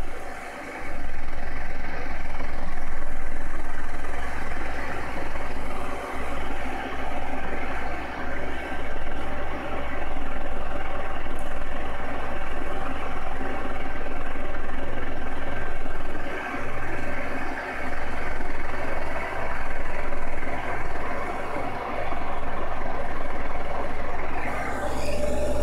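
Steady whirring drone of a Dell 700814-Y000 power supply's cooling fan at 12 V under a 65 A load while charging a 6S LiPo pack. The hum is loud and constant, with a fairly continuous broadband hiss throughout.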